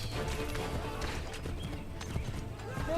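Horse hooves clip-clop at a steady gallop in Assassin's Creed III, with a whinny near the end, layered over game music, ambient noise and talking.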